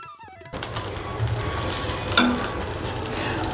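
Oats kuthiraivali dosa cooking on a hot pan gives off a steady close sizzle, starting right after a short quiet moment and holding evenly to the end.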